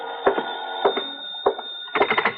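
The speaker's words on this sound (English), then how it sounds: "the phone rang" A telephone rings as a radio-drama sound effect, with several bursts of bright bell ringing separated by short pauses and a quicker cluster of rings at the end.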